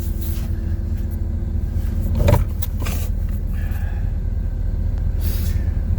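Dump truck engine rumbling in four-wheel-drive low gear, a steady loud low drone with a brief mechanical clunk and hiss partway through, no talk.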